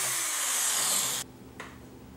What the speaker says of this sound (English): I drill two holes in the ruler on the DeWalt to accept two mounting screws.